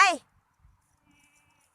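A small goat gives one short, close bleat on a farm, and the rest is near silence.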